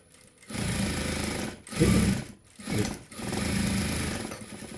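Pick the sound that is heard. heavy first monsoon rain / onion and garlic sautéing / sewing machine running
sewing machine running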